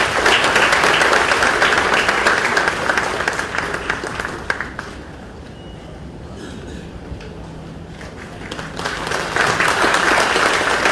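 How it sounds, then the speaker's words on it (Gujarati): Thunderous applause from the audience at the Vibrant Gujarat, Vibrant Valsad summit, loud and sustained at first, then fading to a lull in the middle before a second full wave of clapping rises again. "અક્ષરને તાળીના ગરગડાટથી વધાવીએ"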